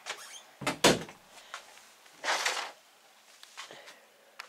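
Doors being closed indoors in a home, a couple of sharp thuds and latch clicks separated by softer shuffling and rustling, fairly close and moderately loud.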